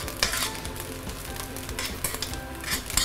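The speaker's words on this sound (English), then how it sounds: "this is sauteing after about 3-4 minutes" Dried radish and tofu sauté in oil in a pan, giving a steady crackling sizzle with scraping stir strokes and small spatters, close and fairly loud.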